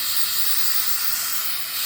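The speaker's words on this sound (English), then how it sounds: "I'm going to spray over that." Flex Seal aerosol spray sprayed over roof shingles to replace lost granules: a steady, close, loud hiss running continuously with no break.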